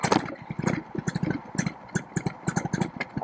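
A paramotor engine sputters and catches in an uneven run of rapid pops and bursts while the throttle is feathered, loud and close, with no speech.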